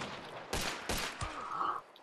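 Gunfire in the Hunt: Showdown video game, a few loud rifle shots in quick succession, each with a sharp crack and a trailing boom, followed by a mechanical metallic clack.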